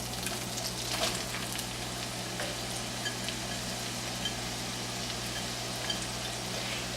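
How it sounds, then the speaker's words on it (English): Shallots, onions and leeks sauté in melted butter with a steady, soft sizzle and faint crackles, close by and continuous with a low hum underneath. "we're going to go ahead and add our vegetables, our shallots and onions and leeks"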